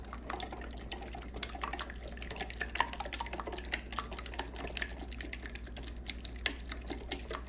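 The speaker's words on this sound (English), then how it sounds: "Whisking an egg" Someone whisks an egg in a bowl while cooking chicken and dumplings, making quick, irregular clicking taps over a steady low hum, with no talk.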